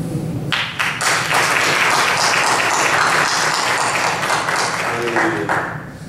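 An audience claps together in a sustained burst of applause at a gathering, dense and fairly loud, starting abruptly and fading out near the end with scattered claps.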